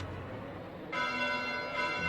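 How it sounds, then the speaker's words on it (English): Bells ring at night in Fire Emblem Three Houses, entering abruptly as a faint, steady metallic ringing wash over a low ambient hum, with no talk. "Bells? This late at night?"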